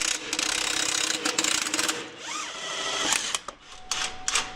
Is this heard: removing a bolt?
yes